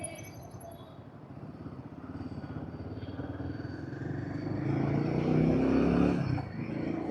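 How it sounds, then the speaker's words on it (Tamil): A Royal Enfield Himalayan 450 motorcycle engine drones and then climbs in pitch and loudness as it accelerates hard past 4000 rpm, peaking near the end before easing slightly. "4000 rpm தாண்டிச்சுன்னா பைக் வந்து அப்படியே சீறிக்கிட்டு போகுது."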